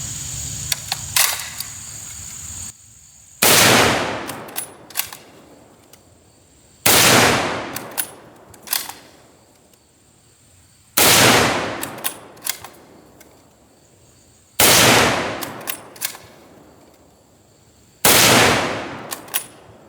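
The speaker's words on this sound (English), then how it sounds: "here I have a representation of the M1903 Springfield. You will now have a live fire demonstration" Loud rifle gunshots from an M1903 Springfield fired live, five sharp blasts spaced about every four seconds, each followed by a ringing decay and faint mechanical clicks of the bolt being worked between shots.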